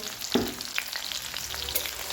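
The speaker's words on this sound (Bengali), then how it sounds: "কাঁচা লঙ্কা কুচি এবং রসুন থেতো করা রসুন ভাজা হয়ে গেলে" Chopped green chili and crushed garlic sizzle steadily in hot oil, a hissing, crackling fry with a few sharp pops and stirring scrapes, no voices.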